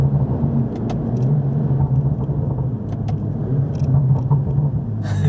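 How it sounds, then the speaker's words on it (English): BMW 235i with a stock exhaust and no downpipe, heard from inside, dropping through gears: a steady low engine drone with faint pops and crackles of burble scattered on top, continuous and fairly loud. "Listen to these downshifts. I don't even have a downpipe and it sounds pretty sick."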